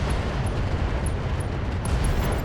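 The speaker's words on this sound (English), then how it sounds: "Firing a full salvo." LRM-60 missile salvo blasting in the game BattleTech, a dense, continuous rumble of overlapping explosions with faint crackling bursts on top, loud and with no talking.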